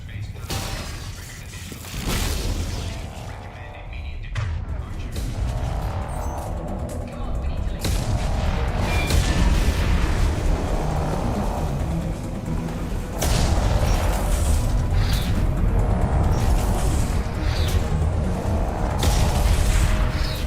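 Explosions in the video game Silksong, a dense run of loud booms, crashes and rumbling blasts that keeps going with little pause, while a person talks over the noise.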